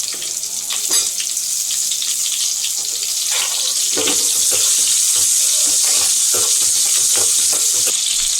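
Onions frying in a pan for temple-style sambar rice, a loud continuous sizzle with scattered clatters of stirring throughout.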